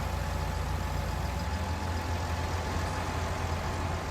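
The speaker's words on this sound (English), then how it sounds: "Start the engine first." A vehicle engine runs steadily in the snowy Farming Simulator 19 game, with a constant low rumble and hum that stays close and even throughout.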